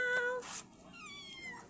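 A pet cat shut in a new cage gives one short, close meow at the start, then soft rustling and faint background noise.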